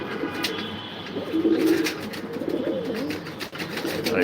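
Racing pigeons in a loft, some of them ill with colds, coo in low throaty rolls close by, one clear coo standing out amid a soft, continuous murmur of the flock.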